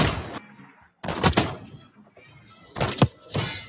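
Gunfire in the Warzone video game: sharp bursts of shots in three clusters separated by short quiet gaps, fairly close and loud, with no voices over them.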